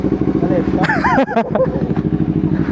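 A Kawasaki Z900 with a straight-pipe exhaust runs nearby with a loud, pulsing engine note that stays steady throughout, while voices chatter close by over it.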